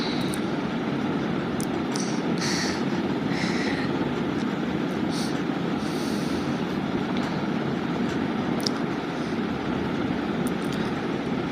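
A train runs along a curved mountain track, with a continuous loud rumble of wheels and wagons close by and occasional higher metallic squeals.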